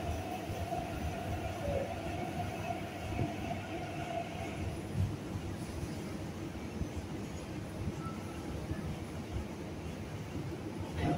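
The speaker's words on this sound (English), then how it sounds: "列车即将开出，乘客请勿超越黄线。" An MTR East Rail line train at Tai Wo station gives a quiet, continuous rumble and whine of the rolling carriages, heard from a distance with faint mechanical hum throughout.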